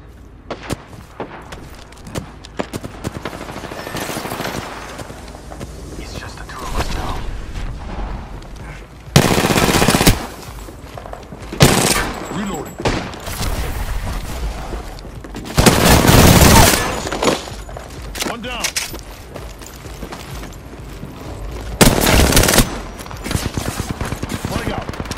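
Rapid gunfire in an Apex Legends match, dense automatic bursts and heavy booming shots that swell and fade across the stretch, close and loud, with a voice talking in between.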